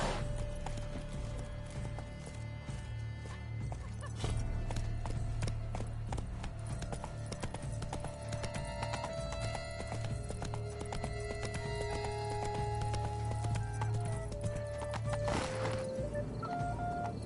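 Horse hooves gallop in a steady clip-clop rhythm through the Witcher 3 Blood and Wine world, close and continuous under ambient game music, with an occasional whinny and no voices.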